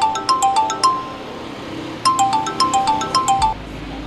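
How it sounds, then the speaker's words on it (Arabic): A mobile phone rings loud and close with a bright electronic ringtone melody, two bursts of rapid chiming notes separated by a short pause, and the second burst cuts off abruptly. "دق الموبايل."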